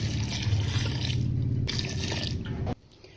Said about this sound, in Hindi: पानी शामिल करेंगे 1 गिलास।